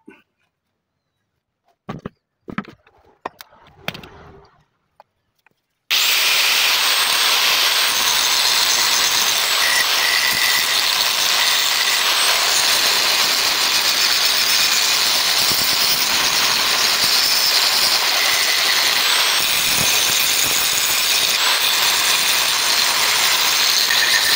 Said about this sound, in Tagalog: Gamitan na natin ito ng grinder mga boss para madali.